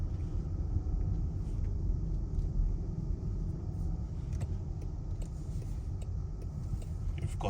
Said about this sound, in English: You've got the wafting tone of the indicator, and not forgetting the throaty engine.